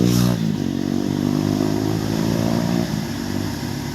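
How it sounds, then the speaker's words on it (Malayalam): A New Holland 4710 Excel 2021 tractor working in mud, its diesel engine running at a steady loud throb with a brief rev at the start, then holding an even note before dropping slightly near the end. "ഏറ്റവും നല്ലൊരു പെർഫോമൻസാണ് ഈ ന്യൂ ഹോളണ്ട് ട്രാക്ടർ കാഴ്ചവെക്കുന്നത്"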